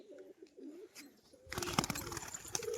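Kagji pigeons coo softly in low, throaty rolls at close range, then louder rustling and movement take over with more cooing continuing underneath.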